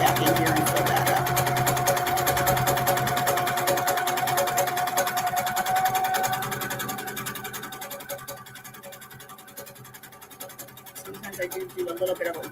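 A sewing machine stitching over lines on a quilting project runs in a continuous, even mechanical drone that eases quieter toward the end before picking up again, with a voice talking alongside.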